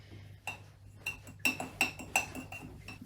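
A spoon mixing mug cake batter in a mug: a few light taps, then a run of sharp, rhythmic clinks of metal against ceramic, close and fairly quiet, with no talking.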